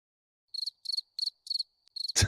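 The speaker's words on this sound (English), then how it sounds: "We got crickets." Crickets chirp alone in a quiet setting, five quick pulsed trills at a steady rhythm, clear and close, followed at the very end by a brief burst of noise.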